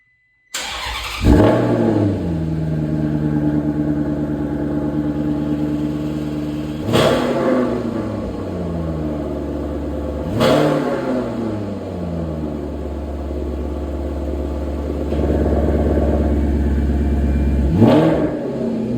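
A Maserati fitted with a Ferrari V8 engine and sport cats fires up loudly nearby, then settles into a deep idle broken by several sharp throttle blips that rise and fall, with one longer rev held near the end.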